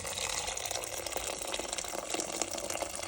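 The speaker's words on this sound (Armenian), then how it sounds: "Լցրեցինք կաղամբը և եղման ջուր" Steady running water splashing into a cooking pot holding cabbage for borscht, a continuous pour lasting the whole moment with no voices.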